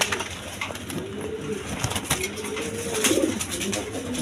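A big-sized breeding pair of fancy King pigeons gives rolling, drawn-out coos, near and clear, one swelling louder toward the end, over a constant low hum.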